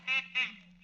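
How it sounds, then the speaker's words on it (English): Mechanical toy duck in an old radio drama, giving three short nasal quacks in quick succession, close and clear against a low hum. "Something's quacking. There, on the floor, a mechanical duck."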